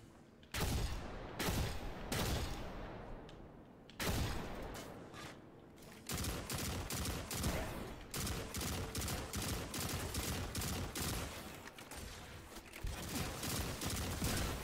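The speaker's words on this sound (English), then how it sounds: "I am not used to shooting glaives at long distance." Rapid bursts of glaive weapon fire from Destiny 2, loud crackling volleys in quick repeated rhythm with brief pauses between strings of shots.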